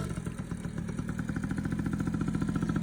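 A dirt bike engine runs close by with a steady, pulsing chatter throughout, holding a fairly even idle-to-light-throttle note with no talk over it.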